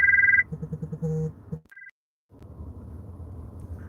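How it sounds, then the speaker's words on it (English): Incoming phone call tones, a brief series of electronic beeps and a short two-tone chime, then a soft steady background murmur. "Apologies, phone call came in."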